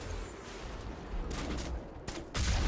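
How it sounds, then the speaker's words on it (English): Bursts of gunfire from a Mass Effect shooter battle, with sustained rattling fire swelling at several points and a heavier burst near the end. "Who's shooting?"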